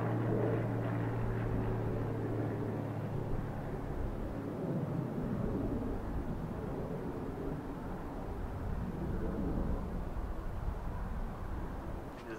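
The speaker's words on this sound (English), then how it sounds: "You should be able to hear a couple airplanes around, as I do live near an airport." Airplanes near an airport produce a distant, low, steady rumble outdoors, faint but constant throughout with some wind noise.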